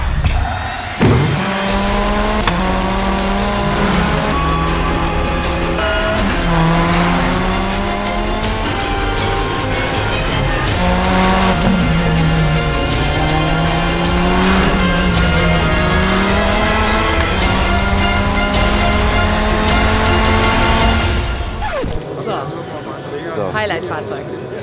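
A Hyundai RM19 race car drives on a track, its engine loud and close, pitch climbing and dropping repeatedly through the gears for about twenty seconds before cutting off abruptly.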